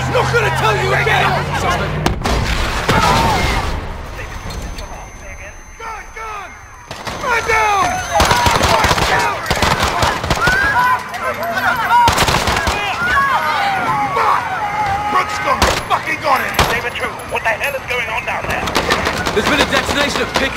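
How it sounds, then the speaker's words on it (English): Gunfire in Call of Duty: Modern Warfare (2019) during a Piccadilly Circus police shootout, with loud bursts of rapid automatic fire and single shots mixed with shouting voices and crowd noise. "Shots fired."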